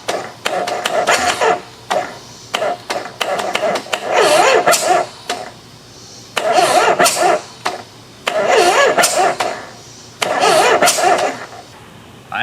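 Rigid-frame 1973 Harley Shovelhead motorcycle engine cranking on the electric starter, repeated loud bursts of rapid chugging turnover separated by short pauses, close by, with no catch into a steady run.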